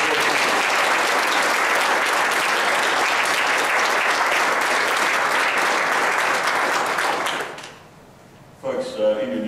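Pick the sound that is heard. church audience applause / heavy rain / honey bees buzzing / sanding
church audience applause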